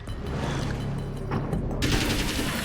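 Rapid, dense gunfire in Alan Wake's American Nightmare, a loud continuous volley of shots with mechanical rattling, ending in a brighter burst, with no talk.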